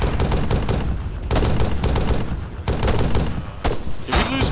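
Gunfire in the military game Steel Wheels: loud, dense bursts of rapid automatic fire and single shots, near and sharp, with brief gaps and a final sharp crack.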